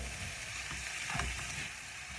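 Green vegetables and courgette sizzle steadily in a hot pan, a dense crackling hiss with a brief swell of stirring midway, alone and close.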